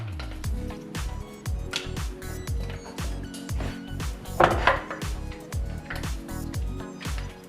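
Apples are cut up by hand for Austrian Scheiterhaufen apple bread pudding: a steady run of quick, close knife chops against a board, with occasional clinks of bowl or utensils and no talking.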